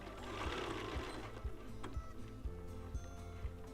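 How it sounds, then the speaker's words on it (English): A sewing machine backstitches across the elastic band of a cloth face mask, running steadily with a regular stitching rhythm pulsing about twice a second, close and moderately loud, with no talking. "when you're going over the elastic band, you can go over it twice with a backstitch to finish the seam off"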